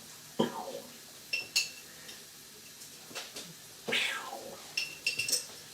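A metal spoon digs into a container of bacon grease, giving a few sharp, close clinks and scrapes in irregular bursts with quiet gaps between them.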